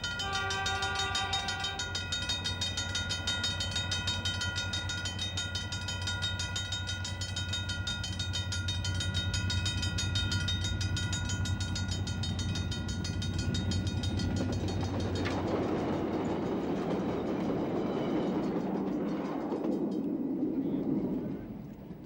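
A goods train rolls past on a railway in rolling farm country, a long, loud, continuous rumble with a sustained tonal whine early on that gives way to broadband clatter and fades at the end.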